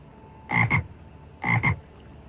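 A frog croaks twice, each call a quick double pulse, loud and close, with a quiet pause between and no voices.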